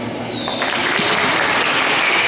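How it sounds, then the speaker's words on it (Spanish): Applause from an audience at a children's violence-prevention event, a dense, steady wash of many hands clapping together, loud and continuous throughout with no talk. "Muchas gracias por los aplausos"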